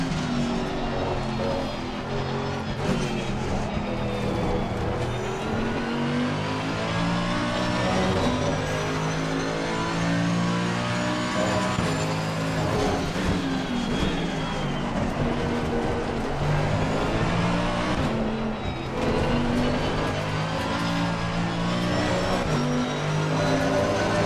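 A Mercedes AMG EVO GT3 race car in Assetto Corsa Competizione, on track at Misano, roars steadily close up, its engine note rising and falling through gear changes and revs for the whole stretch.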